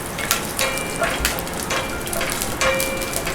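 Ginger and garlic frying in oil in a pan, a steady crackling sizzle with scattered pops and occasional stirring, close and continuous with no talk.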